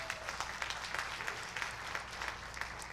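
Audience applause at an AFMX 2024 center-stage conversation, steady dense clapping from a crowd heard at moderate distance, sustained throughout without speech.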